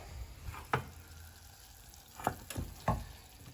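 Diced onions fry quietly in a pan with a low, steady sizzle, while a few crisp stirring scrapes and clinks rise above it.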